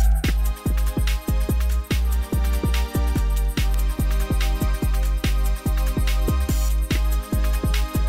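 A loud Jersey Club beat built in Ableton combines percussion loops, melodic elements and deep bass, with punchy kicks and sliding bass notes in a fast, bouncy repeating pattern and busy high hats on top.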